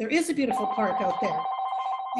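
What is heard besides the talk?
telephone ringing during an online meeting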